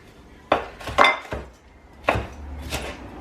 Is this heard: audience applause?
no